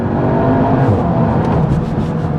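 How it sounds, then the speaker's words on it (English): A Cupra Leon 300 engine pulls hard through smooth, seamless gear changes, a loud, steady, close-up drone with no clear breaks and no talking. "Those gear changes are so seamless"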